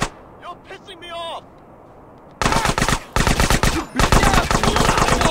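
Loud, rapid automatic gunfire bursts in GTA San Andreas, arriving abruptly after a quieter stretch with a voice and dense close fire in several sustained volleys with short gaps.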